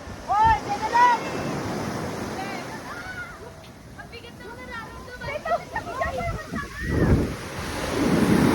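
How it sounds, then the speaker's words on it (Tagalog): Rough ocean surf at Tanza, Cavite, Philippines, crashes and rushes in repeated surges, with wind buffeting the microphone and distant voices and shouts scattered over the water noise. "medyo malakas yung alon dito"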